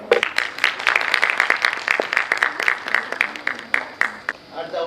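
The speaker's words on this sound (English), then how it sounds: "please welcome Dr. Munir and Masar with his huge round of applause" An audience at a medical teachers' training programme breaks into dense, lively applause to welcome a speaker, many hands clapping close and loud before it tapers off.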